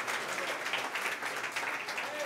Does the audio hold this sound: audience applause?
yes